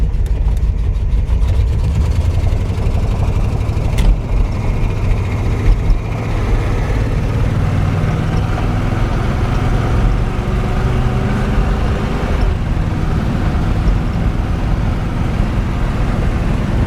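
A 1971 Corvette big block engine runs steadily at about 2,600 RPM, a loud, dense low rumble holding constant throughout with no voices over it.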